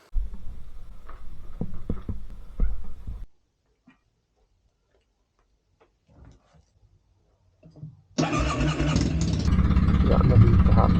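A motorcycle with an oil-warning-light problem runs and pulls away: a few seconds of engine and handling noise, a long near-silent gap, then a loud, steady engine roar through the last three seconds.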